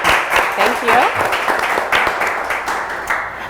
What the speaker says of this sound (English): Let's give a round of applause for Jim.